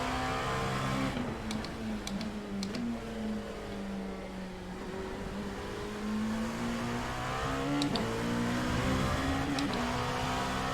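A Dallara P217 LMP2 race car engine in the iRacing video game drones loudly and continuously, its pitch dipping and then climbing again through shifts, with brief sharp clicks over the steady roar.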